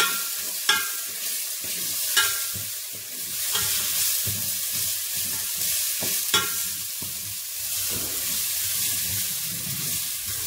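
Chopped fresh spring onion sautéing in a pan on a stove set to 7, a soft steady sizzle broken by periodic scraping and stirring knocks of a utensil, heard close with no voices.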